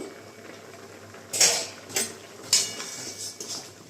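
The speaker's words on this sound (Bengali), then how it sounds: "এখন আমি ঢাকনাটা খুলে দেখে নেব" A metal lid comes off a cooking pot of milk paneer, giving a few separate clanks and clatters of metal spaced across a few seconds, fairly close over a quiet kitchen background.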